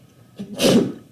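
A single sharp sneeze, close and fairly loud, with a short breathy intake just before the burst.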